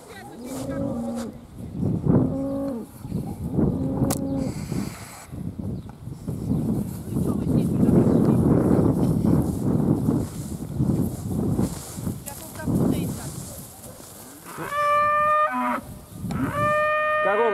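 Cattle and calves mooing outdoors in Central Asian pasture country: several long, tonal moos near the start and a rising, bleating calf call near the end, separated by a stretch of herd noise and shuffling.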